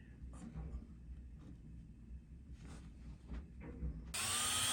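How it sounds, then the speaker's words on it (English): A power drill bores a pilot hole down the center of a wooden lamp body piece, bursting in loud and close near the end after low handling rumble and faint movement noises. "drilling a pilot hole down the center"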